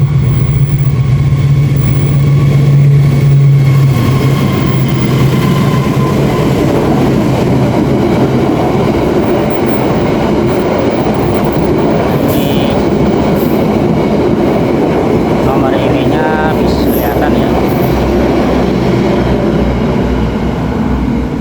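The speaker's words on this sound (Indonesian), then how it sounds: "ada kereta lewat ya" A train rumbles past close by for a long stretch, loud and continuous, with rhythmic wheel clacks and a low horn-like tone early on.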